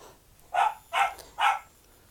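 A dog barks three times in an even rhythm, each bark short and sharp, fairly close, over a quiet background.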